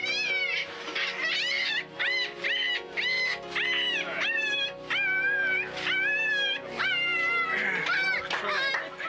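A small rescued puppy whimpers and yelps in a steady string of high, wavering cries, close and loud, after being carried on a long climb back up.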